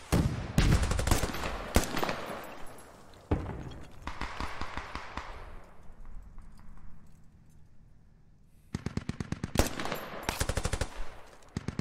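Bursts of rifle and machine gun fire in the military shooter game Squad, sharp rapid volleys at the start and end with a quieter stretch of distant shots between, no talk.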